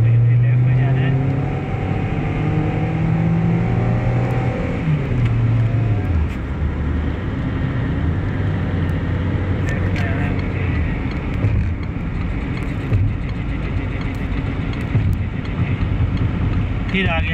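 A car drives along a road in Abu Dhabi with speed breakers, overtaking a taxi; steady close engine and tyre rumble runs throughout, with a voice talking over it.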